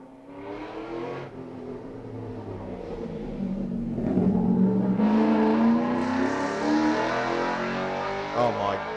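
A Ford XW GT Falcon fitted with a 5.8 litre Ford NASCAR engine races at a historic sprint meeting at Leyburn, its deep engine note climbing as it accelerates hard and roaring louder through the second half.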